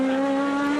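Peugeot 306 Maxi Evo front-wheel-drive rally car at a hillclimb, its engine holding a loud, steady high-revving note with strong buzzy harmonics, close and continuous throughout.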